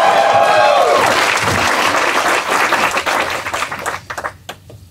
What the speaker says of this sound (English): you guys have to give a round of applause